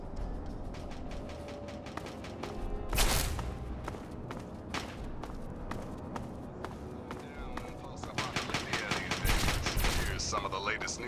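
Gunfire in Fallout 3: rapid bursts of sharp shots rattle on and off alongside running footsteps, with a louder volley near the end and a voice talking over part of it.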